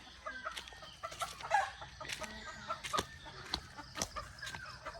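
Farm chickens being dewormed cluck repeatedly in short, scattered calls at moderate distance, with sharp clicks and background yard noise throughout.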